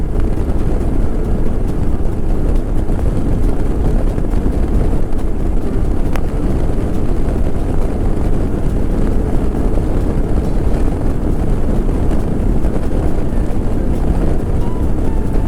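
Steady, loud wind rumble buffets the microphone continuously while riding a modified Royal Enfield Himalayan 411 motorcycle, a dense low roar with no breaks.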